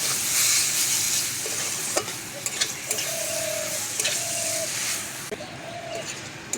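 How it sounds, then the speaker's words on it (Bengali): Spiced fried bitter gourd being stirred in a pan, with a steady sizzle and scraping strokes of the spoon and a few faint tonal notes in the background, no voices. "মশলাটা উচ্ছের সঙ্গে মিশিয়ে নেব।"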